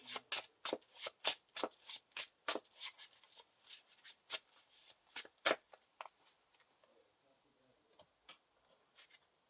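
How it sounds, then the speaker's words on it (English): Playing cards for the Lord of the Rings card game riffle-shuffled close by in a quick run of crisp bursts that slows and softens toward the end. "So we shuffle the top card of our discard pile back into our deck."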